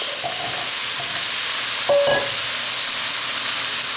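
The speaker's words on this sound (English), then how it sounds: "Leeks are cooking down, we add the carrots." Leeks and carrots in a beef stew pot give a steady, loud sizzle with hissing steam, broken once by a brief clank of stirring, with no voices.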